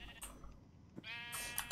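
Sheep bleats from the Minecraft video game, two short digital bleats heard up close and clean with nothing else around them.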